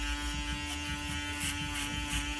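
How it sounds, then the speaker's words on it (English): An Andis reSURGE electric shaver runs over a man's head, its steady mechanical buzz continuous and close with slight rhythmic changes as the head is stroked. "Makes it easier for the shaver."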